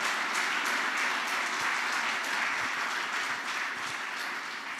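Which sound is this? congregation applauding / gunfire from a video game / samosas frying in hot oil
congregation applauding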